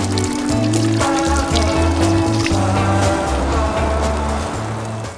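Water pours and splashes continuously over a dusty camper van named Jimmy, rinsing off heavy dirt, with a low steady hum running underneath throughout.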